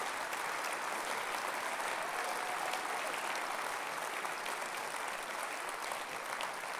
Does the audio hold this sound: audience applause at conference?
yes